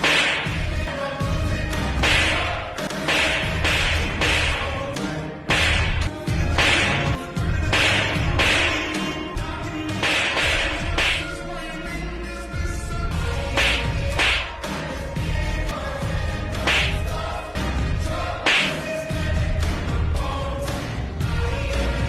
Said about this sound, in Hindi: दिवाली के मुर्गा छाप पटाखे में इतनी अच्छी आवाज नहीं आती इतनी अनुपमा आंटी के थप्पड़ से आ रही है।